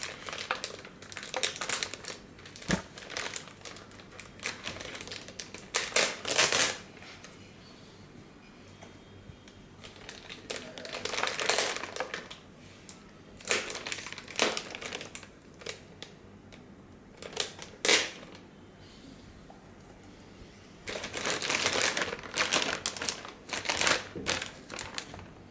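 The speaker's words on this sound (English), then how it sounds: "Let me take out the plastic" Plastic wrapping crinkles and rustles in several bursts as it is pulled off a 7-inch Android 8.0 GPS navigation car head unit for a Suzuki Grand Vitara, close up and fairly loud, with quiet gaps between.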